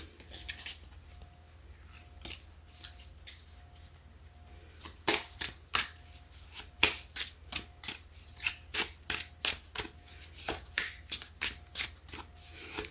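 Playing cards being shuffled nearby, quiet at first, then a steady, rhythmic series of sharp riffling snaps and slaps that keeps going without any talking.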